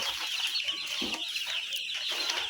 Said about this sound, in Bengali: এই দেখেন পেপারের নিচ থেকে মুরগিগুলো কীভাবে বের হয়